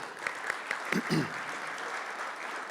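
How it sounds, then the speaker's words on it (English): Applause at a City of Columbus veteran employees appreciation event, fairly quiet and steady clapping with a few distinct nearby claps and a brief voice sound early on. "I think Haley probably deserves another round of applause for that."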